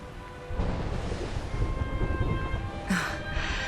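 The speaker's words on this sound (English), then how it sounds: "Would you look at it thundering away out there?" A thunderstorm in the video game Dragon Quest XI, a steady, close roar of heavy rain with a low rolling rumble of thunder throughout and no voices.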